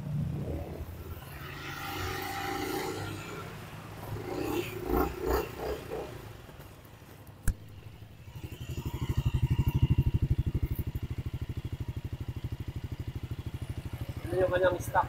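A new 2025 Honda ADV 350 scooter with its stock muffler fires up after a short burst of nearby talk, then settles into a steady, loud rumbling idle that runs continuously close by.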